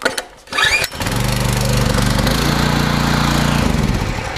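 A small petrol engine on a machine with the choke on, pull-started: a short cord-pull rattle, then it catches and settles into a loud, steady near idle drone that runs on to the end.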